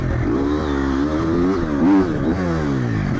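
A Triumph 250 or 450 cross-country motorcycle engine runs close by, rising and falling in pitch through a couple of throttle blips with a clattering mechanical edge.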